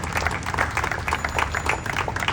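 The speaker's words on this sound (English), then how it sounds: "Give him a huge round of applause" An audience at an outdoor mayoral press conference and bike ride event in Philadelphia claps in a steady round of applause, moderately loud and sustained throughout.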